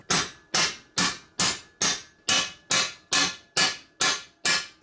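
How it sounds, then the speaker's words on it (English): Eleven evenly spaced soft-blow mallet blows hammering bushings flat on a 4x4 snowblower, each a dull thudding knock that fades quickly, recorded up close with no talking. "I'm just hammering them flat with my soft blow mallet."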